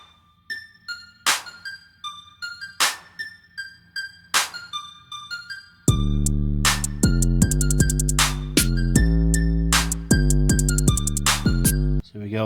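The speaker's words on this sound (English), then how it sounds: "how to get that real hard knock at the beginning of an 808" A sharp clicking pattern gives way to a loud 808 bass with a hard, punchy knock at each attack. The booming sub notes are heavily sustained and repeat in a steady beat, close and dominant, with no talking.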